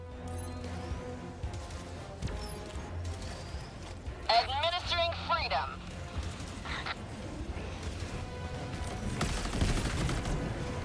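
Gunfire from enemy bots in Helldivers 2 crackles in repeated bursts of shots under steady game noise, with a croaking warbled effect in the middle and a louder noisy stretch near the end.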